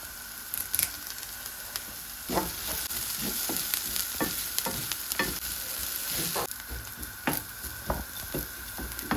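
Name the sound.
onions and curry leaves frying in a pan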